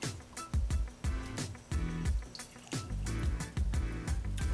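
Water poured into bourbon for a Kentucky tea mix of one part bourbon to four parts water, heard as a close, quiet series of splashing glugs and drips in uneven spurts, with no talking.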